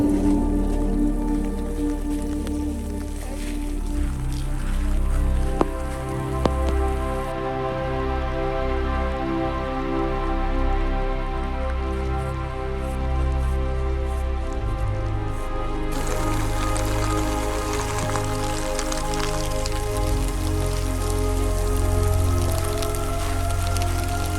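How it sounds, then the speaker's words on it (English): Steady rain falls on surfaces all around on a Haleakala trail, a continuous patter with dripping and trickling water, alone, without voices. "and a lot more rain"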